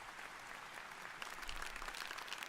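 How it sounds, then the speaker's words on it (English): Clapping from the bug character in the animated series The Amazing Digital Circus, a steady patter of hand claps that swells slightly midway and continues quietly, fairly distant and faint. "The bug clapping and everything."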